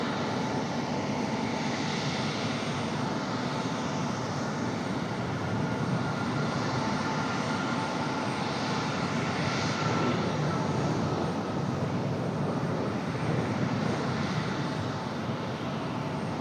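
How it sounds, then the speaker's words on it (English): A United Boeing 737 jet departs from Raleigh Durham International Airport, its engines giving a steady, continuous broadband roar that is heard at a distance throughout. "Looks like we got a United 737 up for departure"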